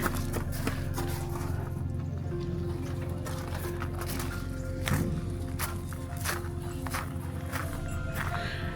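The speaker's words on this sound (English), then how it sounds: "The footsteps are mine, but you hear that quite a lot during the night." Footsteps at night on an island trip in the Philippines, soft repeated steps heard under a constant low hum of background noise.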